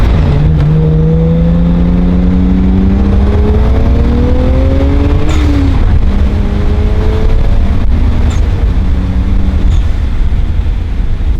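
A Stage 1 tuned BMW 335i with the N54 engine accelerates on the road, its rising engine tone climbing through gears in loud sweeps with brief shifts, heard from inside the car and dominating throughout.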